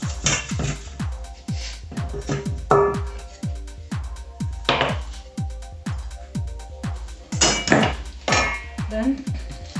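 Pepper mixed into a pot of beef sauce, a busy run of sharp metallic clanks and taps from a utensil against the pot in uneven rhythm, close and fairly loud, with occasional scraping.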